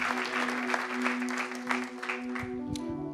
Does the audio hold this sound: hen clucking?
no